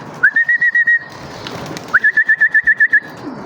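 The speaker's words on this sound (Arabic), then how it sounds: "شوف هذول الطيور شلون اصعدهن" Two bursts of rapid, evenly spaced whistled calls from pigeons, each a run of about eight short notes, loud and close with a pause between them.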